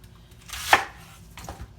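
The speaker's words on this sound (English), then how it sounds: "I'm gonna cut the little ends off" A knife cuts the ends off celery and onions on a board, one crisp close chop followed by a second, softer cut.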